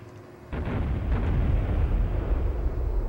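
A sudden boom kicks off a heavy, sustained roaring rumble, a big explosion or string of blasts in the video game Duke Nukem 64, continuing without letup.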